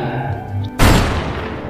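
Film gunfire: a sudden loud broadband blast cuts in partway through after quieter background sound, then a sustained rumbling roar trails off.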